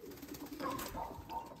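Pigeons coo softly at close range during bath time in a loft of racing birds, a few low murmuring calls spread over a moment with steady background noise.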